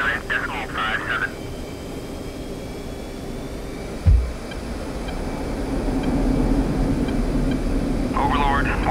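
An F-15C jet in the DCS combat flight simulator rolls for takeoff, its engine roar a steady broad rumble that swells slightly toward the end, with short radio voice chatter breaking in at the start and close.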